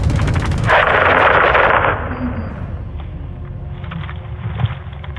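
Gunfire in Call of Duty: Modern Warfare II covering troops in a courtyard, a dense loud burst of shots that fades into a low rumble with scattered faint distant pops.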